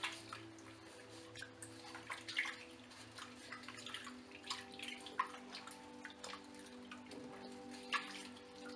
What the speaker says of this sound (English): you're going to rinse your skin with warm water